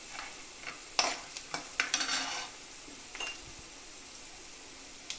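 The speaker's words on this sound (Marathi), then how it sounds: "शेंगदाणे जरा छान लालसर झाले, त्यात थोडं जिरं ॲड केलं, चवीसाठी थोडा हिंग टाकलेला आहे" Peanuts, cumin seeds and asafoetida frying in hot oil in a pan for poha chivda, with a steady soft sizzle, scattered spoon scrapes and taps as the mix is stirred, close by with no talking.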